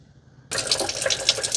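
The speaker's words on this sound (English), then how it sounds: "Let's add some water." Water starts abruptly from a tap after a moment of near silence, then runs in a steady, bright splash as it fills the mop tank of an Ecovacs Deebot N20 robot vacuum, close and alone.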